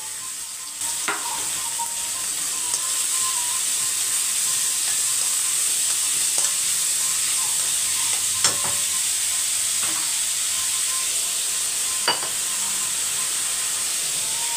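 Onions fry in a hot pan with a steady, close sizzle, while a spoon stirs and scrapes them in occasional soft knocks.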